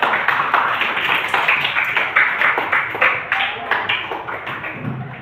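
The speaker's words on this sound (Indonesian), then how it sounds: "beri tepuk tangan kelompok Mas" Students in a classroom give a group a round of applause, a brisk patter of separate claps that rises quickly and then thins out, with some talk faintly beneath.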